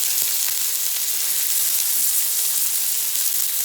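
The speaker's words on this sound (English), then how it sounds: "I let the frying pan heat." A heated frying pan sizzles steadily, a dense, continuous hiss close by with faint occasional crackles and no talking.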